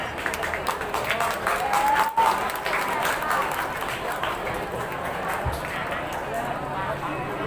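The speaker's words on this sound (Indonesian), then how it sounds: "berikan tepuk tangan yang meriah untuk masing-masing pasangan calon" Audience applause and clapping ring out after a school student council (OSIS) candidate debate, a steady crowd wash of claps filling the room for several seconds with some voices mixed in.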